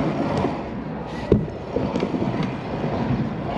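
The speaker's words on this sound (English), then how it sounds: "A train?" A train rolls past near an outdoor action-sports park, a dense continuous rumble and clatter with a sharp clank partway through, no voices.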